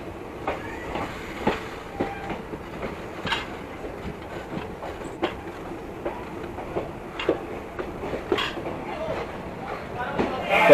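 Passenger express train running on rails in hot weather, a steady rolling rumble with repeated clickety-clack wheel beats at irregular intervals, heard from inside a coach while someone talks over it.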